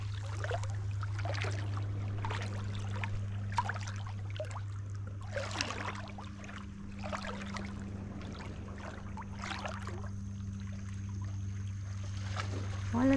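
Clean sea water at Praia das Conchas beach in Governador Celso Ramos, Santa Catarina, washes against the shore in repeated soft splashes and trickles over a steady low hum, close to the listener, with no talk.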